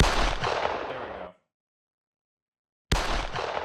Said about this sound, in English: I'll do the gunshot more.